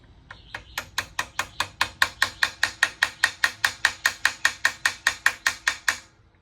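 An old hand hammer taps a part into a twin-cylinder oil-free air compressor, striking about twenty sharp, evenly spaced metallic blows in a steady rhythm, close and clear.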